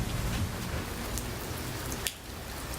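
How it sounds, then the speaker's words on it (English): Heavy rain pours down steadily outdoors, a dense, loud hiss of drops with a brief sharp knock partway through, no voices. "the skies opened up and it's been pouring ever since"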